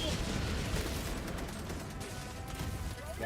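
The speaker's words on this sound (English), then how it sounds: "We got double strafe coming in" Strafing run air strike in Helldivers 2 rakes the ground with a dense, continuous roar of rapid gunfire and blasts, loud and sustained throughout, with voices faintly underneath.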